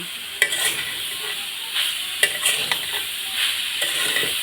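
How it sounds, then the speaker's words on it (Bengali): Grated coconut being stirred in a pan with sugar, salt and cinnamon, a steady soft sizzle with repeated scraping strokes of the spoon at an even pace. "নারকেলটা কিন্তু ঘন ঘন নাড়বেন তা না হলে তলে লেগে যাবে"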